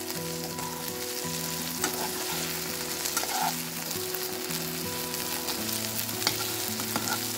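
Mango pieces sizzle and crackle steadily in a hot pan, with a constant frying hiss and low hum, no talking.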